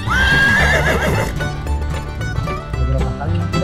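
A horse being ridden gives a loud, close whinny that rises and wavers for about a second, followed by clip-clopping hooves and background noise.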